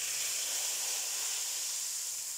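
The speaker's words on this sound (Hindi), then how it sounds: "तड़के की यही आवाज़ जो है वो सबसे मज़ेदार लगती है।" Steady, bright sizzling hiss of hot oil crackling as spices are tempered for kadhi, even and continuous throughout with no voices.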